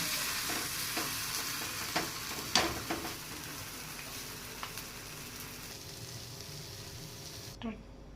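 Cheese-stuffed folded chapati cooking on a dosa griddle, a steady soft sizzle running throughout with scattered clicks and taps of a spatula, fairly quiet and even, cut off abruptly near the end.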